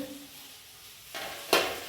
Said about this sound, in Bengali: রান্না চলছে মুসুর ডাল মিক্সড ভাজা বেগুন ভাজা